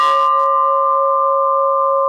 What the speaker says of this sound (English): That's the birdie bell.